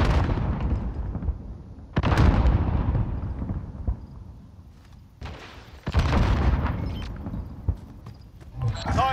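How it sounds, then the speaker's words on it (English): Grenade explosions in the video game Call of Duty: Warzone, several loud, close blasts with rumbling tails arriving in separate bursts, layered over game noise and talking players. "Throwing grenade."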